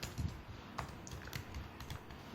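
Keys clatter on a computer keyboard in quick irregular bursts of clicks and taps, close and moderately quiet, with no speech.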